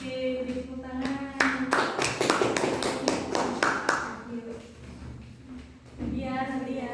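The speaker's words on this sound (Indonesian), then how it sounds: "Oke, tepuk tangan" Classroom group clapping during an Indonesian lesson on the duha prayer: a brisk burst of many hands for about two and a half seconds, set between stretches of a voice speaking before and after.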